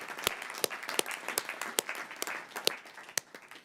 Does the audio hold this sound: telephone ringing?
no